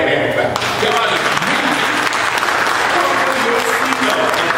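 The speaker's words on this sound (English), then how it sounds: "Let's give the Lord a hand clap" A church congregation claps for the Lord during a service, a loud, sustained round of applause with a few voices and cheers mixed in.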